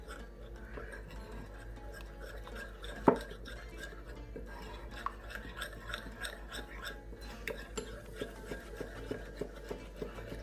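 Flour and water being stirred into a thin slurry in a bowl for samosa pastry, a faint continuous scraping and tapping of a utensil against the bowl with one sharper clink, heard close and quiet.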